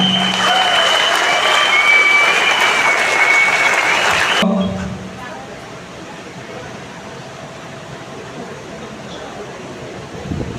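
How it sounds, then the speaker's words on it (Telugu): A seminar audience claps loudly and continuously, then the applause cuts off abruptly, leaving a quiet room hum. "ఒకసారి మీ ఎనర్జీని మీ యొక్క క్లాప్ లో కూడా తెలియజేయాలి"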